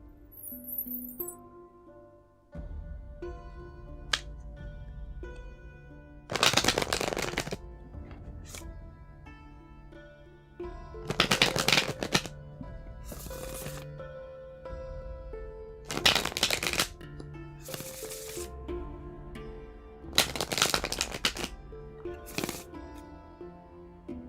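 A fortune-telling deck is taken out and shuffled in several loud riffle bursts spaced a few seconds apart, with soft handling sounds between them and quiet music underneath.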